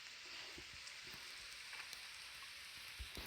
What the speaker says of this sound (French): il est en train de pleuvoir.